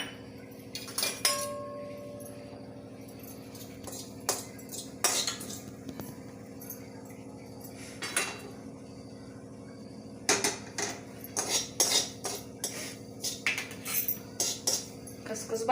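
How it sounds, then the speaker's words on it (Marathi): Metal scrapes and clinks against a pan in scattered bursts, a spoon stirring poppy seeds as they dry-roast, with quiet pauses between. "कढई ठेवली खसखस भाजून घेऊया"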